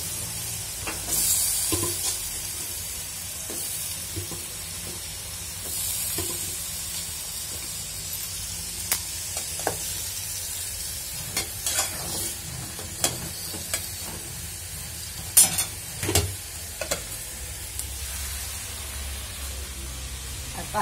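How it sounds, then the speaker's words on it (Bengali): Potatoes and tomato go into fried spice masala and are stirred in a pan: a low sizzling hiss runs throughout, broken by scattered scraping and clinking strokes of a spatula, louder near the end. "মশলা কষানোটা শেষ, আমি এখন আলু দিয়ে দিলাম।"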